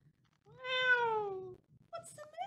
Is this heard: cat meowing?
yes